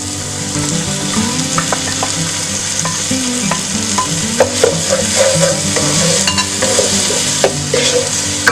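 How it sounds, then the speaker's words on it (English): Masala of onions and tomatoes frying in oil for keema matar, a steady close sizzle with repeated spoon stirs and scrapes against the pan throughout, no talking. "Now we're going to fry the masala really good until the oil starts separating."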